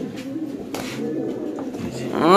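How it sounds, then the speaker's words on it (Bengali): A pigeon coos softly amid low background murmur, the sound swelling louder toward the end of the brief clip. "ফিরোজ ভাইয়ের হাতে এমন এক পিস কবুতর আছে ভাই"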